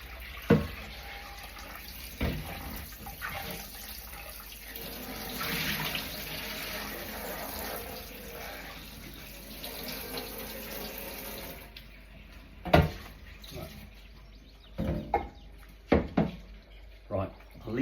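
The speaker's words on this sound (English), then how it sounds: "Let's rinse this out" Tap water running into a kitchen sink to rinse a washed garment, a steady close gush lasting several seconds, then stopping, followed by scattered splashes and wringing sounds as the fabric is handled.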